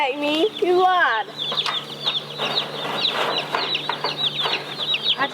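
Meat chickens on a homestead clucking and chattering in a crowded pen, a steady mix of close, overlapping calls with a voice speaking briefly near the start.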